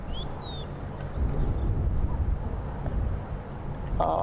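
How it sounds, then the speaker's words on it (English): Strong wind gusting around Buffles Hook Dam on a safari sunset drive, a steady loud roar buffeting the microphone, with faint bird calls at the start and a brief bright sound near the end. "as you can hear, there's plenty of wind happening around here"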